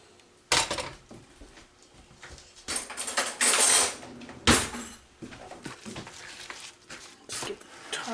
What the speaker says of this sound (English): Next I'm going to add in my couple beaten eggs.